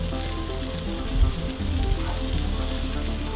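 Layered sliced meat fries without oil in a Petromax Dutch oven on a gas grill, sizzling loudly and steadily with a few brief stirring bumps and no talk.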